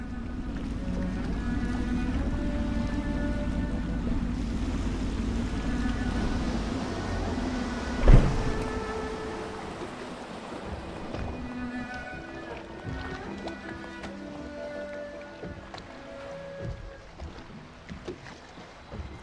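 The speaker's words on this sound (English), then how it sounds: "I should concentrate on piloting this boat" Water churns and rumbles beneath a steady low engine-like drone as a boat moves along in Dishonored, with game music tones and a brief sharp thump midway.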